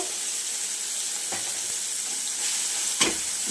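Ginger garlic paste sizzles in a pan while being stirred for a spicy fish curry, an even hiss with a couple of distinct scraping strokes, the last one louder, and no voices.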